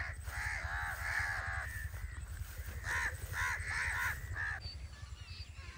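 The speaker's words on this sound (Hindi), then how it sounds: "चावल की फसल जो काट के रखी है उसके ऊपर आगे बैठ रहे हैं काफ़ी सारे परिंदे" Many birds, crows among them, perch on harvested rice crop in an open field and caw repeatedly in harsh, fairly close calls over a constant low engine-like drone, with no talking.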